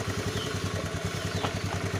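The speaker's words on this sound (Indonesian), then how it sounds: "untuk motornya bisa hidup tapi dia tidak mau langsam atau dia tidak stasioner" A Honda Beat FI scooter engine runs with an uneven, pulsing chug, unable to settle into a steady idle, close and continuous with no talk.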